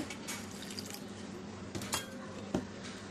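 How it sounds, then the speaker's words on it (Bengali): Milk is mixed into orange cake batter in a bowl, with a spoon or whisk clinking and scraping against the bowl amid wet, sloshing textures and a few louder knocks. "দুধটা দিয়েও ভালো করে মিক্স করে নেব"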